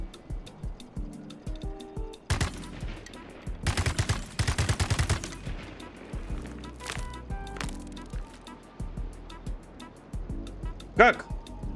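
Rapid gunfire from the video game Atomic Heart comes in sharp bursts, a loud cluster of shots in the middle and scattered single cracks later, mixed with game sounds and someone talking between them.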